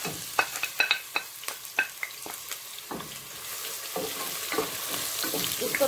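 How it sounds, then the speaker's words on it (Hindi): Chopped onion and three dried red chillies fry in hot oil in a pan, the start of a qeema aloo methi dish. A steady sizzle runs throughout with sharp scraping stir clicks, busier early on, with no talking. "इसको थोड़ा ट्रांसपेरेंट कलर आते तक फ्राई करेंगे।"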